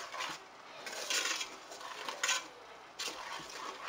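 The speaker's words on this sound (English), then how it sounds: "You stir it, stir it. Did I mention you stir?" Homemade blueberry jam stirred in a pot, a spoon scraping and swishing through the thick fruit in soft repeated strokes with occasional brighter clinks against the pot, close and fairly quiet with no voices.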